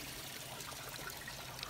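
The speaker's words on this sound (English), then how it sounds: "And we should start to see some water dripping down." Water trickles and drips into a pitcher in a home aquaponics system, a faint, steady running dribble with no voices.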